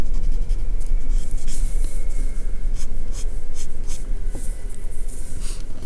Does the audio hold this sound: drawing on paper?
yes